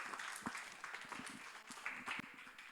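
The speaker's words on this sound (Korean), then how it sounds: "우리 함께 박수로 환영하도록 하겠습니다" A high school congregation at a Korean church Sunday service claps briefly to welcome a speaker, a short soft burst of scattered hand claps lasting a few seconds.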